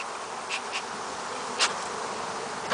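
Honeybees buzz steadily around an open beehive, a dense continuous hum close by, with a few individual bees whizzing past nearer at moments.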